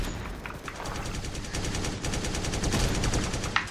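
Rapid automatic gunfire in a video game, bursts of fast shots in quick succession fairly close and moderately loud, with a sharper crack near the end.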